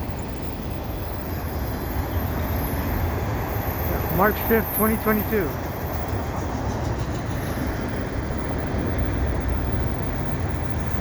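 CN freight train rolling beneath the St. John's Boulevard overpass on a winter day, a steady loud rumble of wheels and cars with a brief squeal partway through, and a voice speaks over it.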